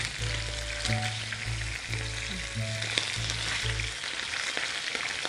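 Mackerel fries in hot oil with a steady, close sizzle and crackle and a few small pops, with no talking.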